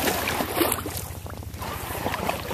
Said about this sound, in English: Still paddling.